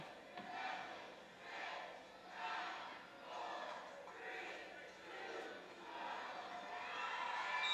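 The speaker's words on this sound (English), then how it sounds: "The crowd counted you down." A crowd at a high school state wrestling championship match roars and chants in swelling rhythmic waves, loud and continuous with no distinct voices standing out.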